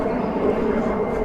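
Airplane passing overhead, a continuous low rumbling drone held steady across the short moment, fairly loud and diffuse in the open air.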